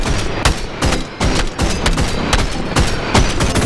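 Rapid volleys of gunfire from a firing squad in the virtual reality game BoneLab, a dense run of loud, closely spaced shots about every half second with no gap between them.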